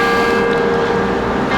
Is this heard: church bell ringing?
yes